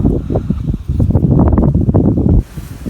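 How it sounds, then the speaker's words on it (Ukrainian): Loud, gusty wind buffets the microphone in rough bursts, then abruptly drops to a quieter hiss near the end. "вітер не попускає."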